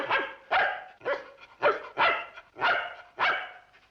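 A dog barks repeatedly in a steady rhythm, about seven loud, close barks spaced roughly half a second apart, with no talk over them.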